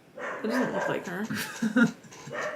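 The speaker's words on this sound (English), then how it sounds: "sorry for my dog barking if you can hear her" A pet dog barks and yips several times in short bursts, fairly close, mixed in with someone talking over it.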